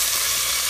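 Red pepper flakes hit hot olive oil in a pan beside Brussels sprouts, giving a loud, steady, continuous sizzle that fills the whole short moment without any voices.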